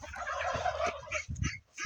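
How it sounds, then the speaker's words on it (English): Turkeys gobble in bursts, a rattling chorus of several birds close by, with a few short calls near the end. "Of course, we got the turkeys."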